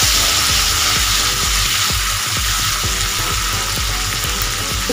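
Medium-sized, roughly chopped tomatoes sizzling and roasting in a pan over a slow gas flame, a steady close hiss of frying with soft stirring knocks and scrapes, no talking.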